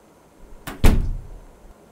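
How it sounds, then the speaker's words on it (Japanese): A single door in the horror game Ao Oni, heard once as a close, solid thud with a brief rattle that fades quickly against a quiet background. "ドアの音にはびっくりしてないよ"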